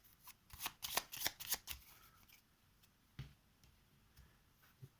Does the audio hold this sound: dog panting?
no